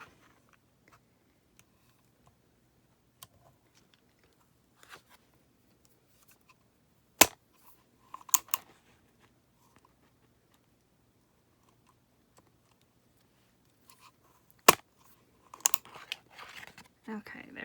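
Two sharp, loud snaps of a hole punch go through a stack of journal pages in a quiet room, each followed by rustling and handling of the paper.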